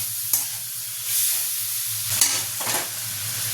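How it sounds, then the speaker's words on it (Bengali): Chopped onions and tomato with salt fry in a pan and get stirred for a Bengali prawn and pointed gourd dish. A steady close sizzle runs throughout, with several scraping stirs of the spoon. "দিয়ে আমি নাড়াতে থাকবো যতক্ষণ না পেঁয়াজটা নরম হচ্ছে"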